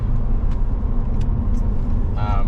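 A 2022 Ford F350 truck with almost 400k miles, just after a transmission service, pulls ahead with a light press on the throttle, giving a steady, close engine and road rumble with a faint brief tonal whine near the end.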